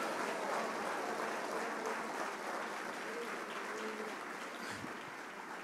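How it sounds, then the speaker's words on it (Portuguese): A church congregation applauding in praise, a dense, steady wash of many hands clapping throughout, fairly distant and even, with no clear talk over it. "Aplaude ao Senhor dando glória a Ele."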